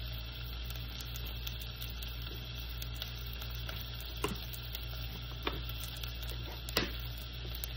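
Steady sizzle from a pot of corn and vegetable soup as corn goes in, a continuous close hiss with a few faint ticks and clicks, no voices.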